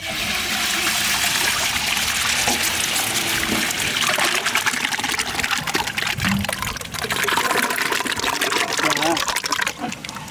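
Cold-pressed sesame oil pours in a continuous, loud, close stream for outdoor village cooking, steady and gurgling from start to finish.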